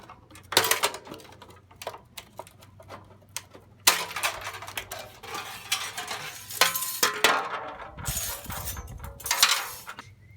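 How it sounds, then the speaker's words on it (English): A tool cuts the heat shield off a stock Chevrolet Silverado muffler in uneven bursts of harsh grinding and scraping metal, with pauses between cuts and several sharp metallic clanks and rattles up close. "First thing I'm going to do is cut this heat shield off."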